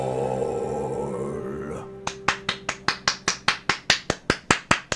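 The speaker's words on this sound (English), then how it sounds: "Can you hear me clapping? I'm clapping." A single person claps hands about fifteen times in a steady, evenly spaced rhythm, each sharp clap loud and close, beginning after a stretch of music from the game Disco Elysium: The Final Cut.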